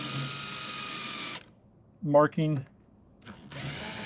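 A power drill bores a pilot hole, sized just under 1/4 inch, for the mounting bolts of a 36V Minn Kota Terrova trolling motor. It whirs loud and close in two runs, with a brief spoken word between them.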